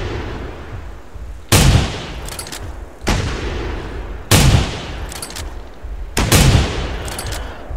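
Four loud, sharp shotgun blasts firing slugs at a Triceratops in a survival video game, spaced a second or two apart, each with a short ringing tail and no talk.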